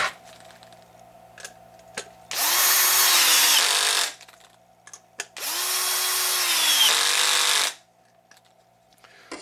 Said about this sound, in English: go ahead and tighten those up.